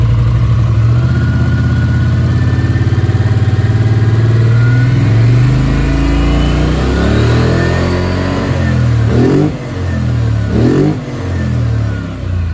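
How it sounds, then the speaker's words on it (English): A Polaris Sportsman 850 Touring ATV engine with an HMF Optimizer runs loud and close, idling roughly, then revs up and down several times in rising and falling pitch sweeps. "Now I wanted to show you guys what it does when it's just sitting here idling now that it stops. I'll bring the RPM up."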